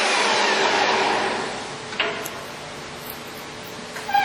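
A Harrison 13x40 lathe runs at its top speed of 2,500 RPM, giving a steady broadband mechanical whir that eases slightly after the first second and a half, with a few faint clicks toward the end.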